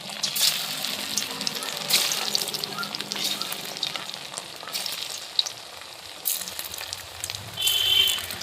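Flattened rice (chira) pakoras fry in hot oil with a close, steady sizzle broken by sharp crackles and pops, swelling louder toward the end.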